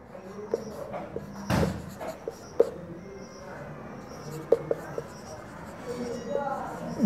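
Chalk scratching across a classroom board during a class-two maths lesson, a series of short scrapes and taps at moderate level over quiet room noise, with one louder thump partway through.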